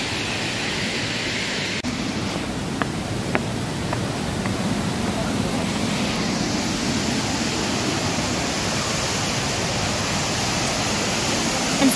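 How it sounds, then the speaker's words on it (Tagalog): Continuous rushing roar of water pouring at Wawa Dam in Montalban, Rizal, loud and steady throughout, with a few faint clicks early on. "Dito nga ay maririnig natin yung lagaslas ng tubig."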